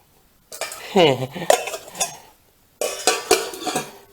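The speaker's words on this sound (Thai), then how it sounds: "มันซ้อนกันอยู่ครับ นี่ครับ หม้อสามชิ้นครับ" A stacked three-piece metal cooking pot set is handled, with clattering clinks and knocks in two bursts separated by a short silence, close and fairly loud.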